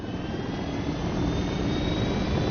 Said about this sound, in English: We got your chopper.